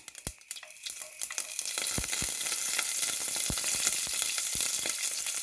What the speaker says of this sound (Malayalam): കടുക് പൊട്ടുന്നുണ്ട്. അതിലേക്ക് നമ്മൾക്ക് കുറച്ച് കരിവേപ്പിലയും കൂടി ഇട്ട് കൊടുക്കാം.